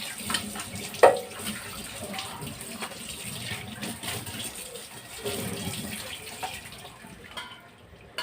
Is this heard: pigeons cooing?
no